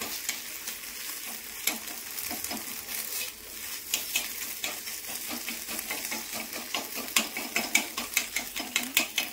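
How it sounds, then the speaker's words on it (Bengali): Eggs being scrambled in a pan before vegetables go in, a steady sizzle of frying under repeated scraping and stirring strokes of a utensil against the pan, close and continuous with sharper clinks toward the end. "ডিমটাকে ঝুড়ি ঝুড়ি করে তারপর সবজিটা দেবো"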